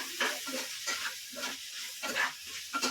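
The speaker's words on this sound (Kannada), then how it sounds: "ಹಾಕ್ಕೊಂಡು ಸ್ವಲ್ಪ ಫ್ರೈ ಮಾಡ್ಕೊಳ್ಳಿ" Fennel seeds fry in hot oil for a chicken biryani, a soft sizzle broken by rhythmic scraping stirs about twice a second, close and fairly quiet.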